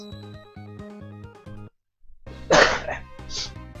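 A couple of harsh coughs burst out loudly right after a short run of steady musical tones, close to the listener.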